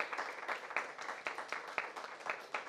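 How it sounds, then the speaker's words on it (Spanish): Audience clapping at a Catholic archdiocese book launch in Santo Domingo, fairly faint and a little sparse, with distinct claps standing out from a steady patter for a few seconds. "Un aplauso, por favor."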